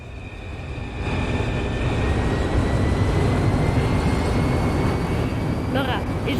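A train that has been set on fire in a police video game gives a steady, loud rumble that builds and then holds, with people talking over it.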